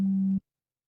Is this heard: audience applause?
no